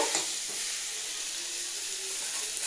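Raw mango pieces being stirred in a hot pan for pickle, giving a soft, continuous sizzling hiss with faint scraping, steady and fairly quiet throughout.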